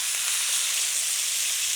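Celery sizzles steadily while frying in a pan alongside browned beef short ribs, a constant bright crackling hiss throughout, close and with no voices.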